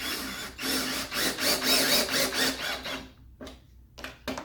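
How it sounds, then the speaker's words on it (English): A power drill drives screws through steel T-mold track into a subfloor during laminate flooring installation, giving a close, loud whirring burst for about three seconds, then two short separate spurts after a pause. "We're just going to screw it to the subfloor."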